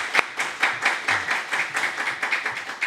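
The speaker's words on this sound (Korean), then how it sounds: "박수로 우리 환영하겠습니다." A church congregation clapping during a Sunday service, a steady patter of many hands applauding together at moderate loudness.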